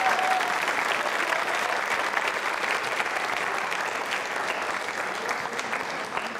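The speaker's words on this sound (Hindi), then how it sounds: "मेरे लिए भी तालियां बजा दीजिए एक बार" Continuous audience applause rolls through the hall at a Hindi-language Yoga Day quiz show, an even wash of many hands clapping with no break.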